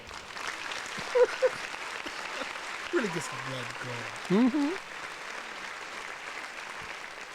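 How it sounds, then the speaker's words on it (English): Applause sound effect in a podcast setting, a steady wash of clapping running throughout at moderate level, with people talking over it in bursts. "Round of applause."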